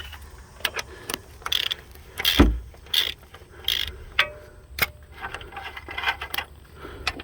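A bolt is worked out of a ball joint on a 2003-2009 Dodge Ram 2500/3500, giving intermittent metallic clicks, ratcheting taps and scrapes with a single heavier clunk, all fairly close and without speech.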